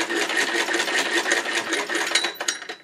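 A hand-cranked Singer 99 sewing machine stitches in a rapid, steady mechanical chatter of needle and gears, close and continuous, slowing slightly toward the end.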